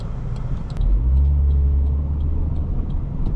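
A 2002 Honda Accord SE engine surges as the throttle is pressed while driving, a low, swelling drone that holds steady over road noise.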